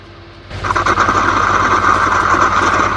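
A tractor engine heard from inside the cab while pulling a hay tedder, a steady loud drone with a mechanical whir that starts abruptly after a quiet half-second.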